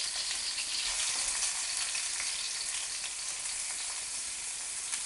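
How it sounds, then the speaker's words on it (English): Beef mince sizzles loudly in a hot frying pan, a constant crackling hiss with small pops, close up and with no talking. "That's good when you hear the sizzle."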